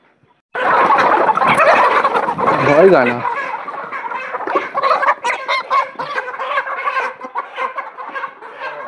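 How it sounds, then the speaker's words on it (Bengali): Large broiler chickens, about 3 kg each, clucking and squawking loudly and continuously at a poultry farm while being caught and weighed for sale, with brief talk mixed in. "এই তো মুরগিগুলো দেখেন, কত বড় সাইজ মুরগি, 3 কেজি প্রায়।"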